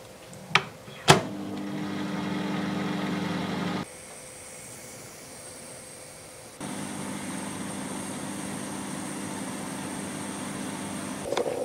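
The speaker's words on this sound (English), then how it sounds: "Fill up the jug with milk and place it into the microwave. Heat between 1 and 2 minutes on high." An 800-watt microwave oven hums steadily on high while heating a jug of milk, with a click and thump at the start, a change in tone midway, and another click near the end; no one speaks.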